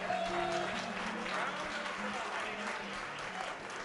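A jazz club audience applauds a singer with a steady round of many hands clapping at moderate distance that fades slightly toward the end.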